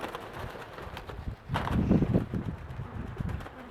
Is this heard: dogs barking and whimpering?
no